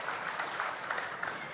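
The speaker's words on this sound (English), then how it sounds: "let's now welcome Supreme Master Ching with a warm round of applause" Warm round of audience applause greeting Supreme Master Ching as she arrives for a televised conversation, a steady wash of many hands clapping at moderate level with no voices over it.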